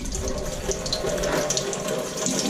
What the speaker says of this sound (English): just get some cold water on in here